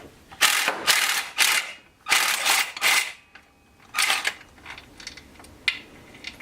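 An impact wrench driving through a long chain of extensions works a Miata transmission bolt, firing in several loud rattling bursts of hammering separated by pauses, close by.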